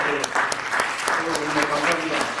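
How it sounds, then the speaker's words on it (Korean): A crowd at a book launch and author talk in Seoul bursts into brisk, dense applause that stays loud and close for its short span, with a voice heard over the clapping. "자, 박수를 한번 들어볼까요?"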